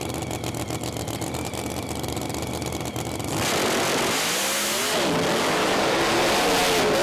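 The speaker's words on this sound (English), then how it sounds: "tyre shake bites him again. on and off the throttle all the way down" A Pro Mod drag racing car at a British Drag Racing Championship round, loud, steady engine roar at first, then a surging, wavering run as tyre shake forces the driver on and off the throttle.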